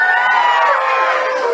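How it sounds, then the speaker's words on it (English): A live concert audience screams and cheers loudly at a tribute show, a dense, high-pitched wall of shrieking voices that holds steady throughout. "let's hear you all scream"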